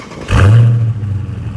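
A 2018 Dodge Charger Scatpack engine, 485 horsepower on the stock factory exhaust, gives one short loud rev that swells and settles back into a lower rumbling idle.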